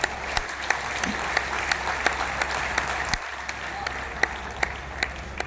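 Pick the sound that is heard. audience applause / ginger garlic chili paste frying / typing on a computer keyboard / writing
audience applause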